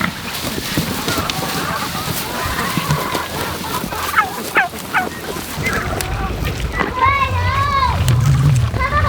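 Turkeys and hens on a homestead make repeated gobbles and fowl calls, some close and loud, mixed with clucking, splashing and other yard noise, while people talk at times.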